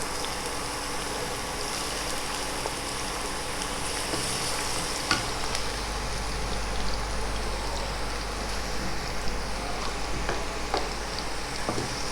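Garlic frying in oil toward a light golden color, a continuous soft, rain-like sizzle holding steady with a few faint pops and ticks.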